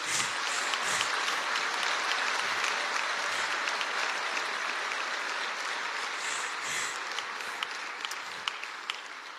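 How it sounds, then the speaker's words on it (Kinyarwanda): A church congregation applauds continuously during a sermon, a dense, even wash of clapping from many people throughout, moderately loud and without a break. "Ndumva Imana nayisabira amashyi."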